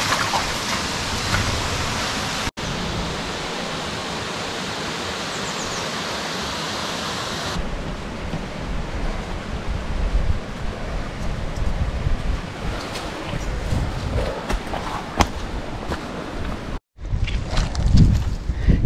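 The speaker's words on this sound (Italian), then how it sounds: "siamo alla parte di sopra, diciamo, della cascata" Waterfall heard from its upper part near Gallese in the Tuscia countryside, a steady roaring wash of falling water close by that continues throughout, broken by brief handling knocks and a short dropout near the end.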